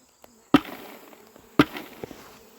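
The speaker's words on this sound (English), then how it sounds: "we're going to knock the bees into this bucket and then dump a few in here" Beehive frames are knocked against a plastic bucket twice, giving two sharp thuds with smaller knocks after them over a faint hum of honeybees, all heard close by.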